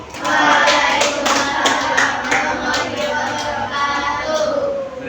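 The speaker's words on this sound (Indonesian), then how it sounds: "Tepuk keren untuk kelompok kreatif." A classroom group claps together in a short burst of rapid hand claps after a presentation, dense and fairly loud, with voices mixed in.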